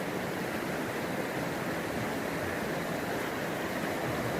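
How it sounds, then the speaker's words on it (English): A cold river running high, rushing steadily as an even, broad wash of water noise at moderate volume, unbroken and with no one speaking. "The river high, a little bit of sun."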